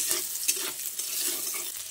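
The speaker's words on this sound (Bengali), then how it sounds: "ভালো করে নেড়েচেড়ে উচ্ছেটাকে ভেজে নিচ্ছি।" Sliced bitter gourd with a little salt and turmeric frying in oil, giving a brief steady sizzle broken by a few clinks of stirring.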